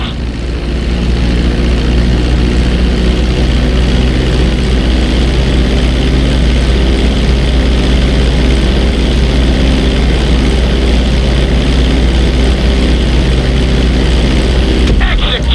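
Propeller airplane in GTA 5 coming in to land on a runway with landing gear down, its steady, loud engine drone running continuously and close throughout, with a faint voice mixed in.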